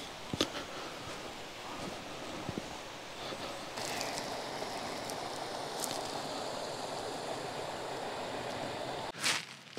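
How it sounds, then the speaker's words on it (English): Steady soft hiss of rain falling outdoors, a constant wash of noise with a few brief louder patters and a rustle near the end. "The rain wasn't forecast, but it is here."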